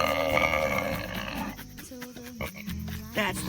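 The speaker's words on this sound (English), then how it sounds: "That's the sound of a happy pig." Happy pig grunting close by, low rough snorts and grunts in short bursts, with a person talking over and between them.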